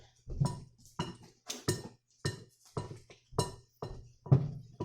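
A spoon clinks against a bowl while brownie batter is stirred by hand, about eight sharp, bright taps coming at a steady, unhurried rhythm, close and fairly clear.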